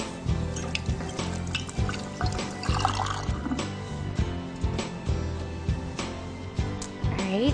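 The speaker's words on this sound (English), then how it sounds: "Rinse my hands off." Hands rinsed under a running kitchen tap while baking orange almond biscotti: steady water flow splashing into a sink, with intermittent changes in the stream and some background music-like tones, no talking.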